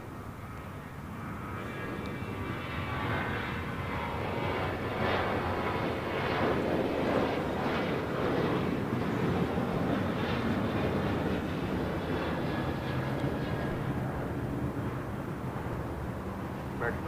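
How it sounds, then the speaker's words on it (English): An American Airlines Boeing 737-800 taking off at LAX, a jet roar that builds and stays strong and steady with a broad rumble, while voices are faintly present beneath it. "This is American Airlines Flight 2002 taking off to Las Vegas on a 737-800."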